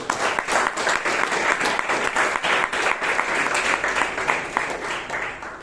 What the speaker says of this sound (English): Pradeep deserves a big round of applause